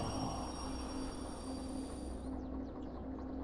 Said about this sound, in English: I can hear my train off in the distance